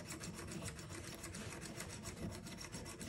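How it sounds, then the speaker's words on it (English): Steady, continuous rasping strokes of a metal jaw harp frame rubbed against a whetstone, close and even, repeating in a quick back-and-forth rhythm with no pauses and no voices. "I got my whetstone here, and I just give her like such."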